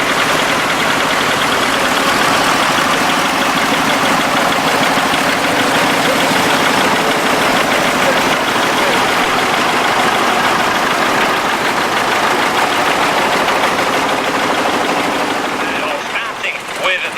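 Several tractors idle steadily at a Pennine Group vintage rally at Fitzwilliam, a continuous loud, even engine rumble with a faint knocking texture that holds for the whole stretch before easing slightly at the end; voices are faintly mixed in.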